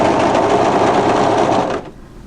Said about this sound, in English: the best way to get a nice sharp edge through that centre front with the ties is to overlock straight off the edge